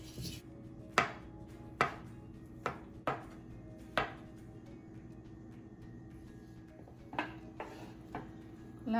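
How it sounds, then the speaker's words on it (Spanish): Cooked potatoes being chopped with a knife on a board for potato salad, a series of sharp, irregular knife strikes close by over a low steady background hum, with no talking. "Ahora esperamos a que se enfríen para picar las papas y pelar los huevos."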